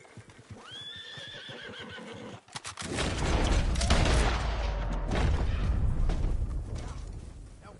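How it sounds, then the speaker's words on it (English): A horse-drawn wagon in a video game: a horse whinnies clearly over rhythmic hoof clops, then loud rattling, rumbling and sharp bursts take over and persist to the end. "He's running a wagon."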